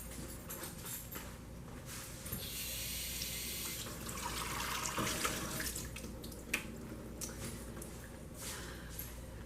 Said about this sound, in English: I'm going to go ahead and rinse it one more time.